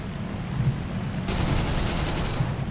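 Rapid aircraft cannon fire in War Thunder rattles continuously at moderate volume, a dense stream of shots over a steady rumbling background.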